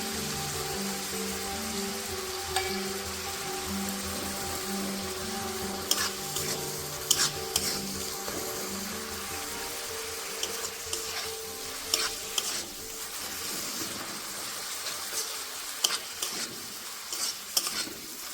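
Ginger and garlic paste sizzles steadily in hot oil in a pan for a Bengali potato curry, with a spatula scraping and clinking against the pan at irregular intervals, close and fairly quiet.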